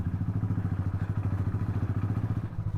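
A Royal Enfield Bullet motorcycle on the road, its single-cylinder engine giving a rapid, even train of deep thumps, fairly close and alone without talk.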